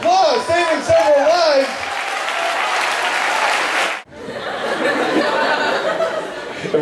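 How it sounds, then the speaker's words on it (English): A crowd bursts into loud applause with a few chuckles, the clapping holding steady, dropping out briefly and then resuming. "Give her a big round of applause."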